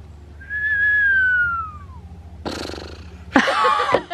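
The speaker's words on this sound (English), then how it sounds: "That was a whistle." A thin, wavering attempt at a whistle, sliding downward in pitch, followed by two bursts of harsh, breathy noise.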